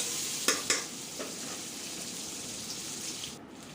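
Onion, tomato and large-cut green chillies cook in a pan, giving a steady close sizzle with two sharp stirring clinks near the start and quieter scrapes after, with no voices.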